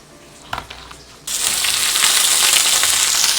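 Sliced onions for chicken pulao drop into hot oil with a few soft clicks, then a loud, steady frying sizzle takes over and holds without a break.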